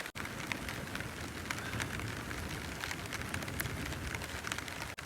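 Rain pouring down in a rainstorm, a dense, steady hiss of drops striking surfaces close by, loud and unbroken apart from a brief dropout near the start and end.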